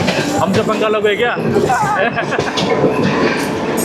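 A sleeper summer special train runs along the tracks on the Delhi to Patna route while racing the Prayagraj Humsafar Express, its loud rumble and clatter filling the carriage as someone talks over it.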